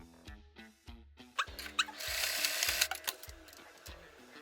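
A sewing machine stitches along a fabric edge in short, close bursts of rhythmic mechanical chatter, separated by brief pauses and followed by a longer continuous run.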